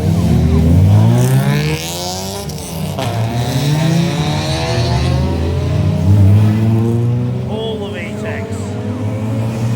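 A K-swapped Honda race car engine revs at a track paddock, rising and falling in pitch over a steady loud drone, with people talking over it.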